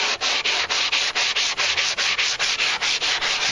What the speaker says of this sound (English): I'll sand it down.